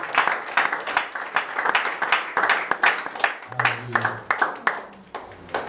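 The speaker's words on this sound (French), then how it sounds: "Nous acclamons très fort le Seigneur." A church congregation claps in bursts of rhythmic applause at a Saturday faith conference, with voices rising through the hall and a low hum near the end.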